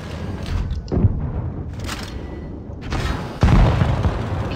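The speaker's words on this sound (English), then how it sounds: "Enemy is hit! Enemy vehicle knocked out!" Tank cannon fire and shell impacts in World of Tanks Blitz, a tank video game: a few deep, booming blasts with the loudest near the end, over continuous rumbling battle noise.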